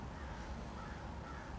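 Crows caw faintly in the distance outdoors, a steady low wash of calls blended into ambient background noise with no talking.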